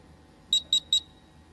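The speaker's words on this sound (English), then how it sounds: "Others on the buzzer." A quiz contest buzzer at a live college quiz final sounds three quick, identical high-pitched beeps in an even rhythm, loud and clear over a quiet hall.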